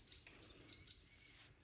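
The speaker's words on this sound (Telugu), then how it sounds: "ఎట్లా సౌండ్ చేస్తున్నాయి బర్డ్స్?" Birds chirp and tweet among trees in the evening, a series of bright, quick calls repeating in short bursts, fairly close and clear over a faint low background.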